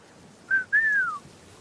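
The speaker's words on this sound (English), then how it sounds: "That was the whistle" A person whistles a signal call alone in a quiet room: a short rising note, a brief gap, then a longer tone that slides gently downward, clear and moderately loud.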